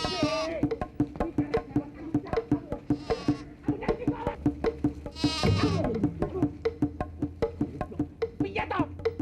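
A goat bleats loudly and close by in several wavering calls, over steady rhythmic music and busy chatter, with people shouting and talking throughout.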